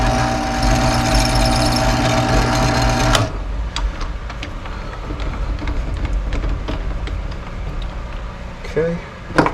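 A drill press works on a carburetor part from a Kawasaki KZ motorcycle, its motor whirring loudly and steadily for about three seconds before stopping, followed by quieter shop sounds and a few light clinks.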